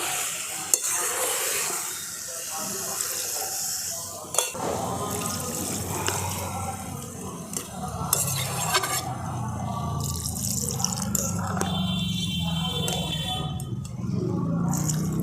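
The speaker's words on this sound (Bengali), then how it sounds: "দেখুন মাংসের ঝোলটা ফুটতে থাকুক" A village-style burnt-chili chicken curry broth simmers in a pot while being stirred, giving a wet bubbling and sloshing with scraping and clinking of the spoon, moderately close and steady.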